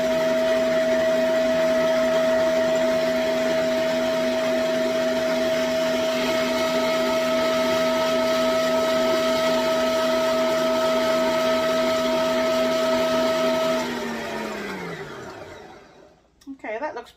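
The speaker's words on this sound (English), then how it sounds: "I'm going to turn the mixer back on" An electric mixer whirs loudly and steadily as it mixes cherry bar batter, then winds down and stops near the end, leaving a few faint clatters.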